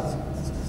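Faint scratching strokes of a pen on paper, a few brief bursts heard under a low murmuring voice.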